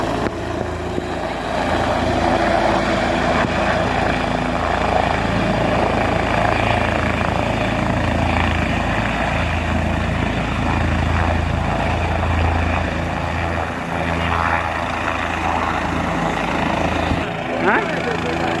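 A helicopter at a Kedarnath pilgrimage helipad gives off a steady low rotor drone throughout, with people talking nearby.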